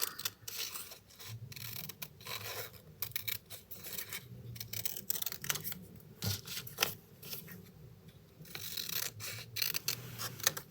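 Scissors snip through paper to cut out a simple tree shape for a diorama, giving a quiet, close, intermittent run of crisp cuts and rustling paper over about ten seconds.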